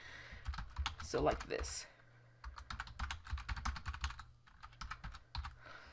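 Crisp bursts of key presses on a computer keyboard as a command is typed for a Raspberry Pi setup, close and fairly quiet, with someone speaking briefly at the start.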